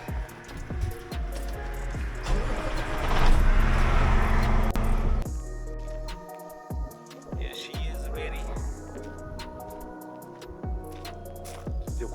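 A truck with a 280 wheelbase and 48-inch bunk chop starts and drives off, its engine rumbling and revving before settling into a steady idle-like drone with rattles and clicks, close to the microphone.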